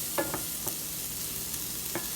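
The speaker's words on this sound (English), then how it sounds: "first we're going to saute the onions" Onions sauté in grapeseed oil under a constant soft sizzle, with a few light scrapes and clicks from stirring scattered across the short stretch.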